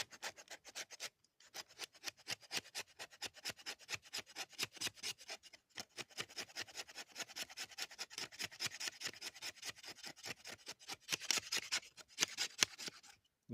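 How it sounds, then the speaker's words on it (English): A saw scrapes shavings off a stick of commercial-grade fat wood for fire starting outdoors. The rasping strokes come close and quick in a regular rhythm, with a couple of short pauses, and the sound is faint overall. "As a way to get shavings off this fat wood to help affect the fire."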